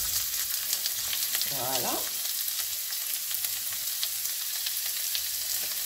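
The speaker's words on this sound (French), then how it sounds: "On va faire revenir un peu l'oignon." Half an onion sizzling and frying in a hot wok, a steady close crackle throughout with a brief spoken word early on.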